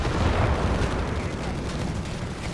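Pak 40 anti-tank gun firing in Company of Heroes 3, a heavy low boom blending into a dense rumble of battle noise that stays loud throughout, with commentary running over it.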